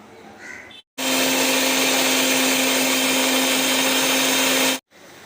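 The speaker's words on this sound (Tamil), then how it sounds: "ரெண்டே ரெண்டு தேங்காய் பத்தை ரெண்டே ரெண்டு மிக்சி ஜாரில் அரைச்சிக்கலாம்" Kitchen mixer grinder jar grinding two pieces of coconut, a loud, steady whirring roar lasting a few seconds, starting and stopping abruptly, with no voices.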